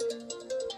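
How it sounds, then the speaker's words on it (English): Short phone text message notification tone, a brief pulsing electronic chime of a few quick beeps, faint and alone. "Another text."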